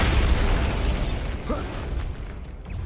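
Bombarda blasting spell cast in Hogwarts Legacy, a loud broad explosive burst at the start that rolls off and fades over a few seconds, with a faint mechanical rattle in the tail.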